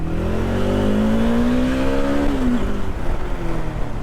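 A car accelerating hard, its engine note climbing steadily for a couple of seconds before a quick drop at the gear change and a renewed pull, loud and close with constant road noise underneath.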